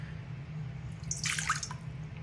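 Water poured into a bowl to start sourdough bagel dough, a brief splashing trickle lasting about a second, fairly quiet over a low steady hum.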